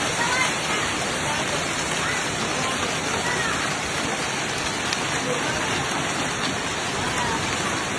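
Heavy rain pours steadily during a severe storm with strong winds in Wuhan, a dense, even hiss of drops hitting surfaces with no pauses throughout.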